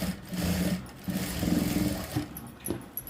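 A sewing machine stitches the side seams of a blouse in two or three rapid buzzing bursts with short pauses between, close and fairly quiet, no talk.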